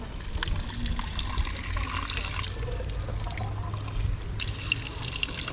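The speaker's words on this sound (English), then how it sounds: "Going to fill this water bottle up here" Warm spring water running from a public tap into a water bottle in Buxton, a steady pour and trickle close by with a faint hiss.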